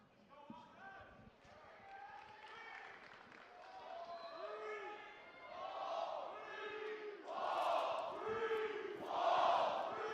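A live crowd at a Call of Duty League Major championship Sunday esports match cheers and chants, the roar swelling and growing louder toward the end, with no clear speech over it.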